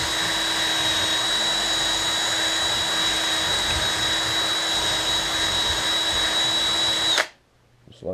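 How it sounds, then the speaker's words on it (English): A power drill fitted with a 1/8 inch bit bores a pilot hole with a continuous, fairly close motor whine and steady grinding for about seven seconds, then stops abruptly into near silence. "And drill a pilot hole right here."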